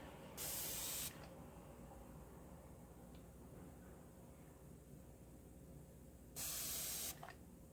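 Two short bursts of fine mist from a spray bottle of 99% alcohol onto wet paint, close and hissing, separated by several seconds of quiet room tone.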